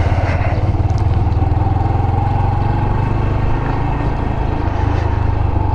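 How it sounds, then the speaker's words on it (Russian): A Yamaha YBR125 motorcycle being ridden, its single engine a steady, close, loud thrumming with a faint rising whine, continuous and without speech. "Я продолжаю ездить на работу на мотоцикле."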